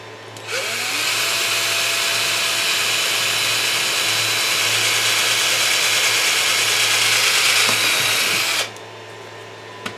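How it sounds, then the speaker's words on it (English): A power drill bores a hole in a board, starting abruptly and holding a loud, steady high whine for about eight seconds before cutting off sharply. "Now I'm going to drill a hole for the light indicator."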